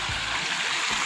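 River water flowing steadily with a broad, continuous rushing wash and a few low splashy thumps, close and fairly loud, with no talking.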